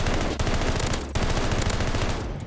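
Sustained, loud automatic gunfire from Call of Duty Vanguard, rapid shots fired through a wall in a continuous burst with brief breaks, dense and close.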